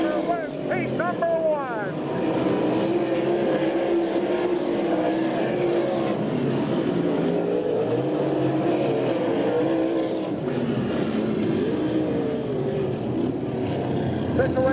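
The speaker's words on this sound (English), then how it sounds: "Closing on Jacobs is Hodgson, but Fred Raymer wins heat number 1" Sprint cars race a heat on a dirt oval at an All Star Circuit of Champions event in Abbottstown, PA, a steady loud roar of several engines, with a race announcer talking over it.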